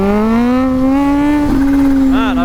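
A Kawasaki Z H2 motorcycle engine holds a loud, steady drone up close, with the pitch creeping slightly higher under light throttle.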